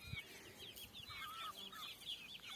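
Chicks cluck and chatter softly nearby in a flower garden in a quick run of short calls, with no talking.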